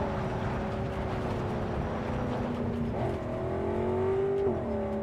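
A car in Cyberpunk 2077 driven with a steering wheel, its engine humming steadily with rising and falling revs and a whirring tone, close and continuous.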